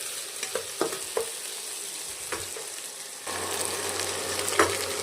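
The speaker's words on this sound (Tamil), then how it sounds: "வெங்காயம் நல்லா வதங்கணும்" Onions fry in a pan with curry leaves for a poori potato masala, with several scraping stirs followed by a steady close sizzle.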